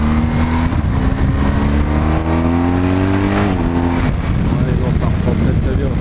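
A BMW R 1250 GS motorcycle accelerating hard, loud close engine note rising through the revs with a brief dip at a gear change, then a rougher rumble as wind noise builds.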